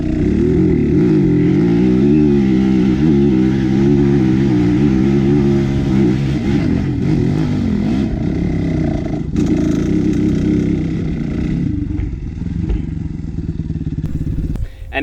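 A dirt bike engine roars continuously at high revs while climbing a steep enduro hill, loud and close throughout, with the pitch wavering as the throttle and clutch are worked, easing off near the end.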